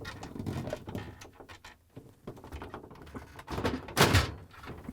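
Plastic clicks, knocks and scrapes come from a Samsung refrigerator's evaporator cover as its locking tabs are pressed and it is lifted free, ending in a louder sharp clack near the end, all close and without talk.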